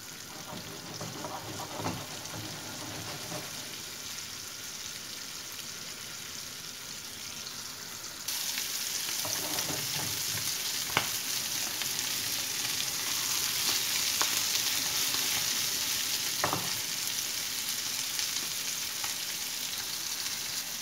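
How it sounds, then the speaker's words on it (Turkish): Anchovies frying in a pan with only a little oil give a steady close sizzle and crackle that grows louder midway, with a few soft clinks and no talking. "şimdi balıklarımızı pişirmeye başlayalım"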